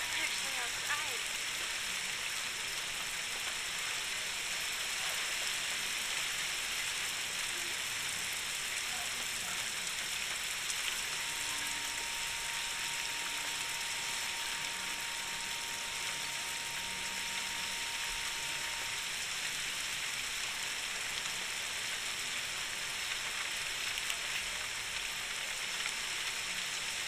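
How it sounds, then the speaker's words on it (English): Steady rain falling in the video game The Last of Us Part II, a dense, even hiss of drops pattering on surfaces that continues unbroken throughout, with faint game sounds underneath. "This rain ain't gonna do us any good."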